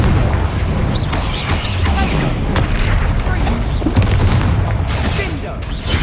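Booming spell blasts and explosive impacts from a wizard duel in Hogwarts Legacy, with dense rumbling low end and crackling bursts running continuously for several seconds, close and loud.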